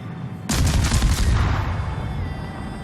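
A single heavy warship gun fires in a naval video game with the Scharnhorst battleship, one loud booming blast followed by a long rumbling decay.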